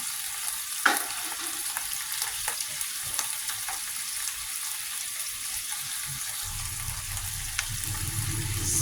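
Coconut curry paste and snails stir-fry in a pan with a soft, steady sizzle, broken by the occasional scrape and tap of a spatula, and the frying grows a little louder toward the end.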